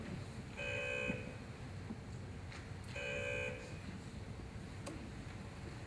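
Quiz competition buzzers being tested in a school assembly, two separate electronic buzzes about two seconds apart, each lasting roughly half a second over a quiet room murmur.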